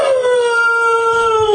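A bulldog lets out a single sustained howl, a high, slightly falling wail imitating an elephant's scream, loud and close with no talking.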